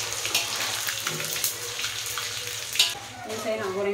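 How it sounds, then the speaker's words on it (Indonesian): Crisp dried anchovies sizzle and crackle in an oil-filled pan while being stirred, a steady close frying hiss with a few scraping clinks. "so kita goreng ikan bilis garing"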